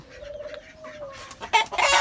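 Chickens kept on a rooftop poultry farm cluck softly at first, then louder, busier clucking and squawks build toward the end, close by.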